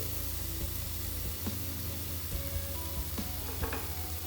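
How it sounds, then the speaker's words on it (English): Curd goes into masala frying in a pan for spicy dhaba-style okra, giving a constant close sizzle with occasional soft utensil taps and stirring. "Now it's time to put the curd."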